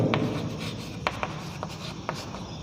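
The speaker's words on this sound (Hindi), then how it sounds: "तो मैं यहाँ पर लिख सकता हूँ वाटर वेपर इन एयर" Chalk or marker scratches and taps on a board while a chemistry lesson is being written, with a few short, sharp strokes over a steady low background and no speech.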